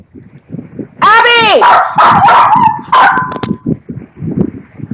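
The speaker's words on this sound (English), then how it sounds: "Sorry, my dog is stuck in my room." A dog shut inside a room lets out a burst of loud, sharp barks and yelps over a few seconds, with a person talking quietly before and after.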